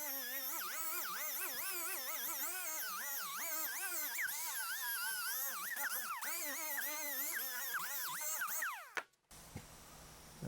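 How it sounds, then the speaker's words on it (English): An inexpensive Harbor Freight rotary grinder running a foam pad finishes a butt weld on a Scout 800 fender. It gives a close, continuous whine whose pitch wavers as the load changes, then cuts off abruptly near the end. "Here's another inexpensive Harbor Freight grinder."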